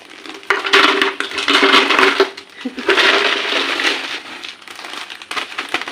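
Chanachur snack pouring into a washed biscuit tin, a dense rattling crunch of dry pieces striking metal in two long bursts, close and fairly loud.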